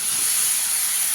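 Potatoes for aloo dum hitting a hot pan, giving a loud, steady hissing sizzle that carries evenly through the short moment with no voices.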